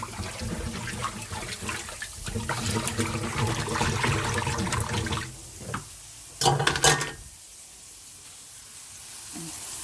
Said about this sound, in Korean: 꼬리 들어놓고 자 튀깁니다